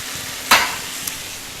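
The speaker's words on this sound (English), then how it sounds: "Keep an eye on that. The zucchinis are frying." Zucchini frying in a pan while a chicken, pomegranate and walnut salad is made, with a short burst of sizzling partway through over a faint, steady background.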